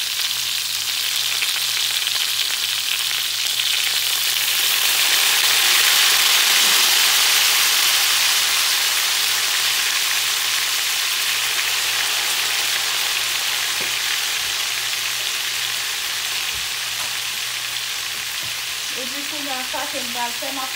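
Potatoes frying in a pan give a steady, broad sizzle that holds loud and close for the full twenty seconds, swelling slightly midway, with faint stirring scrapes near the end.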